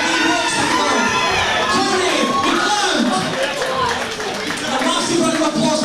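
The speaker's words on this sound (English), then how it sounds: "a massive round of applause for Cameron Thompson from Kingswells Boxing" A crowd at a boxing club home show cheers, shouts and applauds in a dense, continuous roar that fills the whole stretch, with higher children's voices standing out in the noise.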